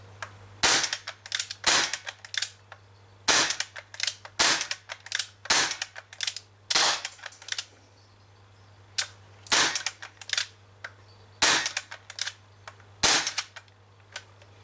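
Sharp, loud cracks from a Umarex HK MP5K CO2 airsoft gun, fired in single shots and quick bursts of two or three, with short pauses between groups and a steady low hum underneath.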